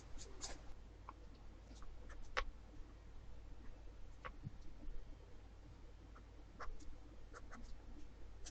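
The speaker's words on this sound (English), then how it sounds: "This is like a quick sketch." Pencil sketching on paper, faint scratchy strokes and light taps scattered irregularly over a low steady background hum, close and quiet, with no talking.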